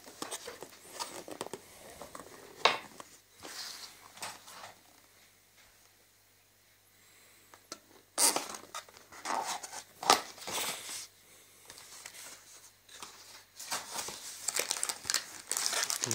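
Plastic packaging of a kuti set with ground poppy seed and sugar crinkles and rustles as it is opened, in close, quiet bursts with short pauses between them.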